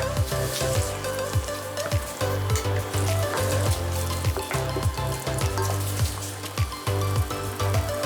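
Sizzling curry pan for chicken pathia as a tin of chopped tomatoes goes in, a dense bubbling hiss with repeated soft splatting thuds and clinks in an uneven rhythm, close and fairly loud.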